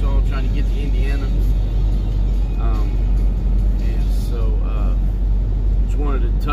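Car cruising on a highway through Arkansas, a constant deep road rumble and engine hum filling the cabin while someone talks steadily over it.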